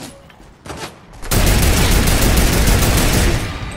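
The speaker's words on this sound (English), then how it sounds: "That's how good mounted turrets are. It does 40 damage and it's rapid fire" A mounted turret in a video game firing in rapid succession: a loud, sustained burst of fast rattling shots that kicks in abruptly after a few quieter sounds and holds steady for several seconds.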